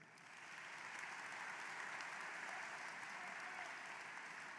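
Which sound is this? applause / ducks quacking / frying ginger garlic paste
applause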